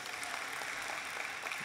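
Audience applause rings out at a spring college convocation, a brief, even patter of many hands clapping at a distance, soft and steady with no talk over it.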